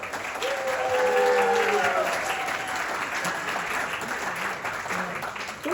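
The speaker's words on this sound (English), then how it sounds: "keep that round of applause going for the father of the groom" Applause and some cheering from a wedding crowd, held steady for the father of the groom and keeping up across the whole stretch.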